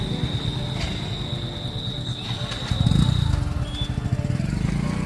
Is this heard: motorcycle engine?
yes